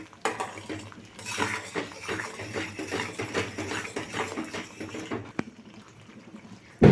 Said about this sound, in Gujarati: હવે આપણે પાણી નાખી દીધું છે